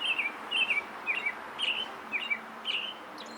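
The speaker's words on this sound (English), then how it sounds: "Let's start with the American Robin, whose song best exemplifies." An American Robin sings a series of short, clear whistled phrases, about six evenly spaced notes with rising and falling inflection, moderately close over faint background hiss.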